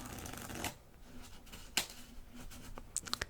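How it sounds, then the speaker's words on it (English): A deck of playing cards being shuffled up close, with quick riffling bursts and a few crisp snaps, quiet overall with no speech. "I am genuinely shuffling the deck right here. So this is a genuine shuffle to start the trick."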